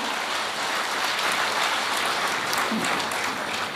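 An audience at a Hindi comic poetry gathering breaks into sustained, dense applause, a steady rain-like patter of many hands at constant loudness with no speech over it.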